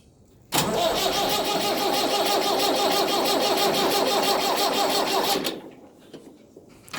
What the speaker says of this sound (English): you gotta push the throttle up to halfway when you start it, and as soon as it fires up you gotta bring the throttle back down to idle.